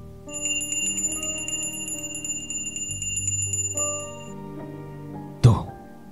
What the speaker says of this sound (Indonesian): Itu bunyi ponsel istri saya